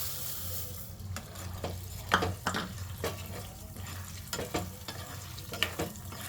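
Urad dal frying in oil for TTD-style coconut chutney, with a soft steady sizzle broken by irregular stirring scrapes and clicks of a spoon in the pan, close and without talk.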